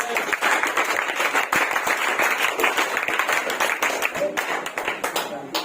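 Audience applause in an exam-preparation lecture hall, a dense rapid patter of many hands clapping throughout, with voices mixed in.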